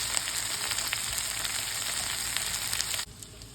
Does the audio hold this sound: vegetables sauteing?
yes